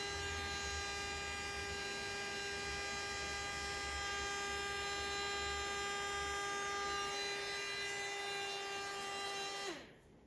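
Small electric blower aimed straight down onto acrylic paint, giving a steady, close motor hum with a buzzy whine that runs without a break for about ten seconds, then cuts out.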